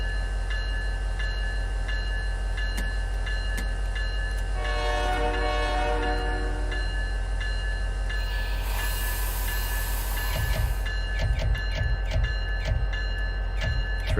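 An SD70ACU locomotive getting underway in the Trainz video game: a steady engine drone, a long horn blast, then a hiss and rhythmic clunks as the train starts moving.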